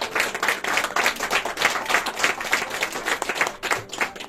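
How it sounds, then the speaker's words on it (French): A church congregation claps and applauds in praise, a dense, steady wash of many hands clapping fairly close throughout, with no clear speech. "Est-ce qu'on peut acclamer le Seigneur?"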